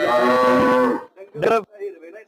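Crossbred Jersey cattle at a sale, with a long loud moo close by followed by two shorter, softer calls.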